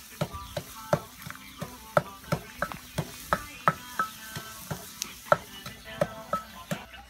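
Chicken being stir-fried in a pan with bamboo shoots: a spatula scrapes and knocks in a regular rhythm of sharp taps over a soft, steady sizzle, close by with no talking.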